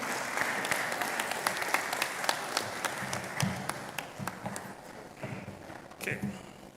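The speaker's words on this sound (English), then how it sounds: "Please let's keep the applause flowing." A thin audience at a Lagos Business School executive programme graduation claps sparsely, with distinct individual claps at an uneven rhythm and some faint murmuring beneath.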